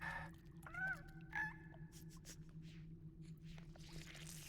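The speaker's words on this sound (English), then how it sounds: "Squee chirps." A squee, a small lizard-cat creature in the video game Myst III: Exile, gives a few faint, high, squeaky chirps over a low steady ambient hum, then quiet background tones.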